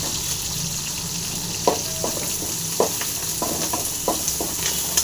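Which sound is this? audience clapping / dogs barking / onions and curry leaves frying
onions and curry leaves frying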